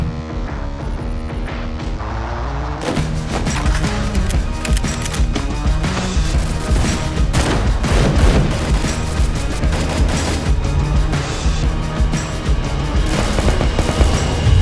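Gunfire in the Free Fire mobile game: dense, loud bursts of rapid shots layered over booming music and crashing effects, with a brief tonal intro before a continuous wall of in-game battle noise.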